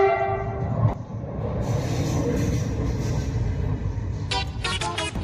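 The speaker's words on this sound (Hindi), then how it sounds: "मेरा घर पटरी के पास है, जहाँ से ट्रेन आती जाती रहती है, तो आप इस साउंड को थोड़ा सा इग्नोर करें" A train passes close to a house beside the railway tracks, its horn blaring at the start, a heavy steady rumble of wheels and cars throughout, and further horn blasts near the end.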